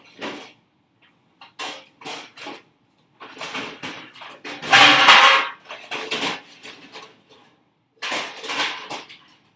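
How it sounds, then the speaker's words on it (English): A series of clattering metal bangs and knocks as pans fall out of a kitchen cupboard, with a loud crash in the middle and scattered clunks before and after. "You know how when we're getting pans out, they fall all over the place."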